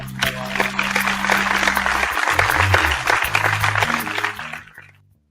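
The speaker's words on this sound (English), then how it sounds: "A round of applause." A live studio audience gives a round of applause on a beer-tasting show, a dense steady wash of clapping that swells for about four seconds, then tapers off and stops.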